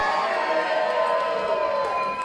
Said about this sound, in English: Much to the delight of this crowd.